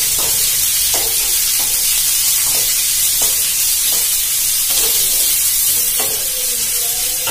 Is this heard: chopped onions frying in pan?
yes